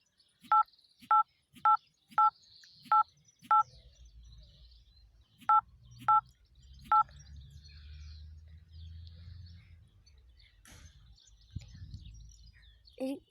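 A telephone number dialed as a string of crisp DTMF keypad beeps, six quick tones then a pause and three more, followed by quiet low room rumble and faint background sounds.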